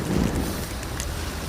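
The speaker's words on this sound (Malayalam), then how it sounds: "അവിടെ മഴ പെയ്തു തുടങ്ങിയിട്ടുണ്ട്. ഒപ്പം കാറ്റുമുണ്ട്." Heavy rain and strong wind at Shirur during monsoon weather roar as a loud, steady wash of broadband noise with a buffeting rumble for a brief moment.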